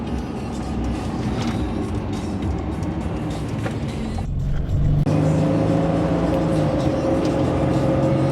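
Steady engine and road rumble from a 4x4 Sprinter camper van driving in winter toward the autobahn in Germany, a constant loud drone with a shift in tone midway.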